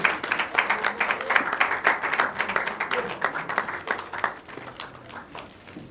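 A film-premiere audience breaks into sustained, dense applause. It holds strong for several seconds, then thins and fades, with voices mixed into the crowd.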